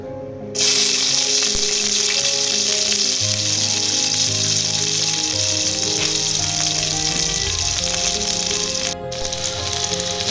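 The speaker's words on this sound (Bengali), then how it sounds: "কড়াইতে তেল দিয়ে তেল গরম হয়ে গেছে এরপর আমি একে একে এর মধ্যে পেঁয়াজ দিয়ে দেব" Onions dropped into hot oil in a kadai crackle into a loud, steady sizzle that continues unbroken, close and without talk.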